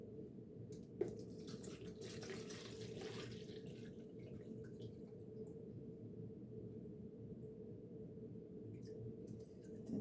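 Distilled water pours steadily into a container set on a kitchen scale while soap-making ingredients are weighed, a continuous close trickle and splash lasting throughout with no talking.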